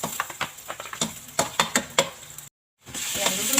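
Garlic and onion fry in a pan, a close crackling sizzle broken by repeated scraping stirs, cutting out briefly before the sizzle resumes.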